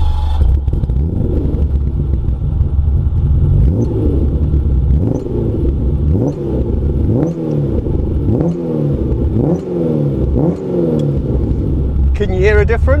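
A Ferrari engine with a modified exhaust and changed header lengths revs repeatedly in rising and falling bursts, a deep throaty exhaust roar with rhythmic blips, loud and close, with a voice briefly heard.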